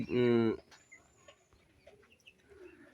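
A loud, close burst of broiler chickens at a poultry farm opens the sequence, a dense clucking call lasting about half a second, followed by faint scattered chirps and small noises over a quiet background.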